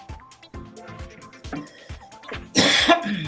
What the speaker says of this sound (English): I'm sorry for coughing, my apologies.